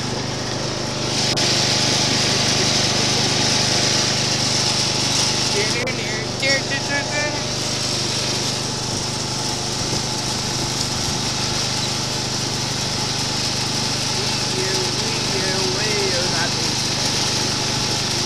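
A lawn mower engine drones steadily at a constant pitch from start to finish, with people talking over it at times.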